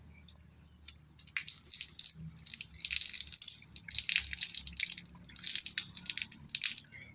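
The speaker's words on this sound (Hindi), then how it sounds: "पानी देके हाथ धोई दियो" Running tap water splashes over a child's hands being washed at a sink, a steady broadband hiss of streaming and dripping water close by that swells and fades as the hands move through the flow, with no talking.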